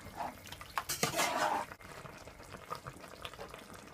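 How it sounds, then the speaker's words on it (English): Jamaican stew pork being stirred in a pot, with a burst of spoon-on-metal scraping and sloshing in the middle and quieter clinks and stirring sounds before and after. "And just stir it."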